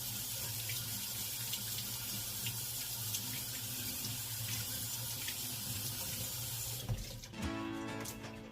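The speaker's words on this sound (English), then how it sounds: "So I'm gonna just rinse that off with warm water." Warm tap water runs steadily over an aquarium heater being rinsed at a sink, a continuous close splashing stream that changes tone near the end as the flow shifts and more water pours out.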